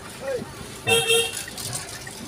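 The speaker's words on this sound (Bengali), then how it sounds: "হর্ন দেন আপনি," A car horn gives one short, bright honk near the middle of a driving lesson, heard from inside the car while people talk.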